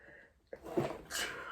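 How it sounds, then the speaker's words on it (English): A single close indoor sneeze with a short sharp intake and burst, followed by a breathy exhale. "I feel like I'm going to sneeze as well."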